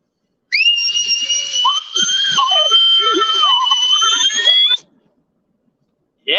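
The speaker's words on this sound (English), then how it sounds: "I got my whistle." A shrill whistle is blown in one long, loud, wavering blast lasting several seconds, followed by silence and the start of another blast.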